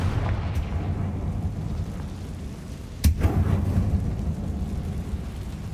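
A fire spell explosion in Hogwarts Legacy lands as one sudden sharp boom midway, over a low, continuous rumbling game backdrop that swells briefly after the blast.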